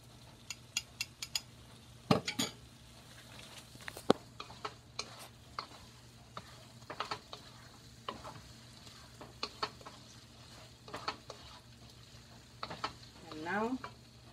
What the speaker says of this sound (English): I've just finished mixing the cornstarch to thicken the sauce. So we're going to go ahead and add that in now.